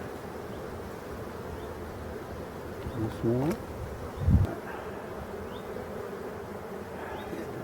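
Honeybees hum in a low, steady drone from an opened beehive, close by throughout. A short voice speaks around the middle, followed by a soft knock.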